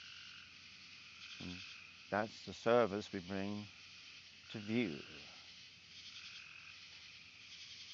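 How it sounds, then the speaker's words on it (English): Frogs croak and crickets chirr outdoors at night in a steady, continuous chorus, while someone talks over it in the middle. "we decided to listen to the crickets outside"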